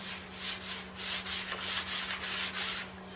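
Rhythmic scrubbing of a pad across a hardwood floor during refinishing, steady back-and-forth strokes about every half second, moderately loud and close with a constant low hum underneath and no talk.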